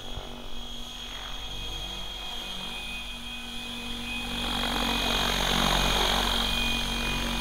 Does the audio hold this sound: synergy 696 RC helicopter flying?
yes